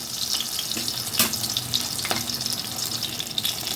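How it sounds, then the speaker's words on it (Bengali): Cabbage rolls fry in a pan over low-medium heat, producing a continuous sizzle with a few sharper pops and utensil clicks, close and moderately loud, with no one speaking. "এই জন্য লো মিডিয়াম হিটে রেখে কিন্তু এই বাঁধাকপির এইগুলোকে ভেজে নিতে হবে"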